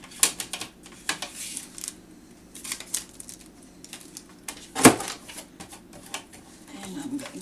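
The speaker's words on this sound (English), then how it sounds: "And I'm just going to trim it there." Scissors trimming a strip of black paper for a handmade memory book, a series of crisp snips and paper rustles close up, with one sharp louder cut midway and a brief voice at the end.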